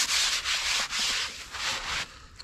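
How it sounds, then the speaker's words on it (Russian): A bow saw rasps back and forth through fallen forest wood in steady, strong strokes, close by, with no voices. "когда я пилю вот этой лучковой пилой"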